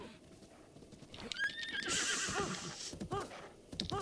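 A horse in the Zelda: Breath of the Wild game whinnies loudly in a long rising neigh, followed by shorter snorts and whinnies, with hoof clip-clops underneath and no talking.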